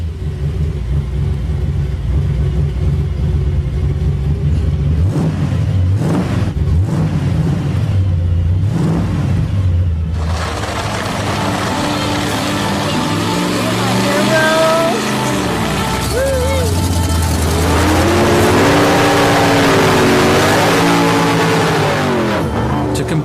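A Ford Mustang muscle car built for the racetrack revs hard and close, its engine note swooping up and down in loud repeated surges over a heavy rumble.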